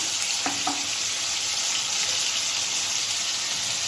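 Ridge gourd frying in hot oil in a pan, a steady close sizzle with a couple of brief clicks near the start and no voices.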